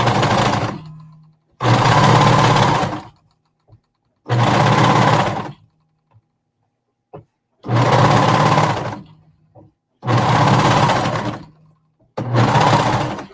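A sewing machine chain-stitches pieces of fabric one after another in six loud, close bursts of about a second or two each, separated by short silent pauses.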